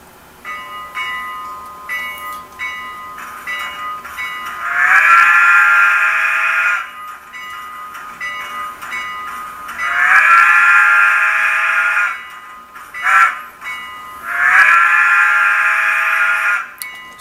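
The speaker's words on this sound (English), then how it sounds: "this is the new WoW decoder that was installed in the small USRA tender." A WoW sound decoder fitted in a small USRA tender of a model steam locomotive sounds three long, loud, sustained whistle blasts, with a short toot between the last two, over quieter engine chuffing and clanking.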